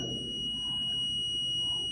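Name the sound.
multimeter continuity test beep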